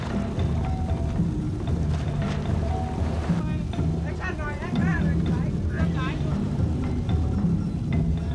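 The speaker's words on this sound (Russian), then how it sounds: "катер подпрыгивает на волнах так" Motor boat slapping and bouncing over tropical sea waves off Thailand, a steady loud rumble of engine and water with wind buffeting the microphone, while voices talk over it.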